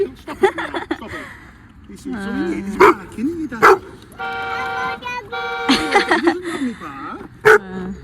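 A dog barks and yelps repeatedly at close range while people talk and exclaim over it.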